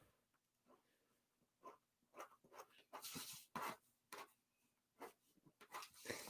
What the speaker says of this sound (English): I'll just draw it for you because I can do that.